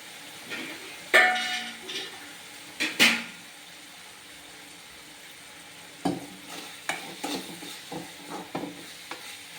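Tomatoes sauté in a pan with a soft background sizzle, broken by sharp scraping strokes of a spoon at irregular intervals: a few early on, then a quick run of stirring near the end.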